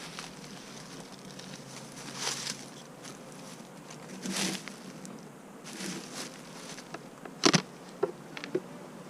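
Honey bees buzzing around an opened nuc hive outdoors in sunlight, a faint, steady hum with a few brief louder passes of individual bees close by.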